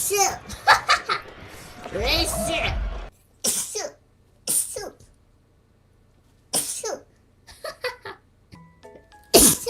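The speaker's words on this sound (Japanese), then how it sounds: "今日めっちゃくしゃみするやん。" Several sharp sneezes and coughs burst out one after another with pauses between them, close and loud, mixed with short bits of voice and a rising vocal sound before them.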